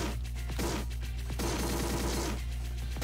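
May's weapon fires in the PSP shooter Neo Geo Heroes Ultimate Shooting: quick, steady bursts of rapid gunfire with a strange, buzzy texture, in a few clusters over a constant low hum from the game.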